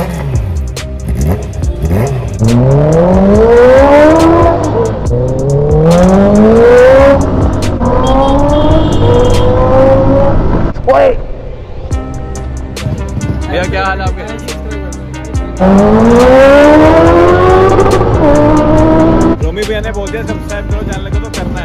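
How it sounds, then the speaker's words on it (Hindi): A Honda CBR650 motorcycle with an Akrapovic full-system exhaust revs hard close by, with repeated loud rising and falling engine sweeps and brief lulls between blips. "शायद अभी CBR हमारा स्टार्ट होने जा रहा है। अब इसकी आवाज़ सुनो,"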